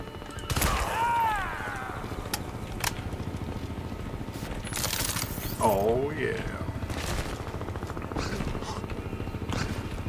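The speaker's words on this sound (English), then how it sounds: "Shots fired." Bursts of gunfire in the video game Crysis 2 crackle over a steady mechanical hum, with scattered electronic effects and brief voices mixed in.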